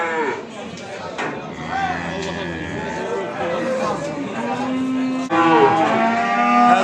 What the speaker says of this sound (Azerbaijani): 2 tane dana satılır.